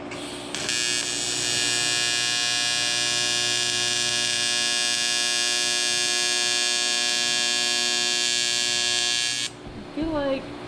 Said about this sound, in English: So gonna try welding the pan on for my oil pan.